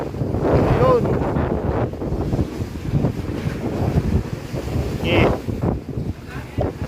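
Strong wind buffets the microphone aboard a ship at sea off Malta while heavy waves surge and wash around the hull, loud and continuous, with a brief spoken word and some talk mixed in.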